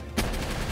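Gunfire in the creature-catching game Palworld during a boss fight, a steady dense burst of shots starting abruptly and continuing close and loud to the end.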